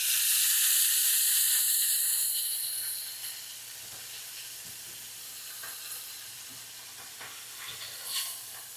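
Bacon and Boursin stuffed chicken browns in a pan with a bright, hissing sizzle that is loud at first, then fades to a softer crackle with scattered pops.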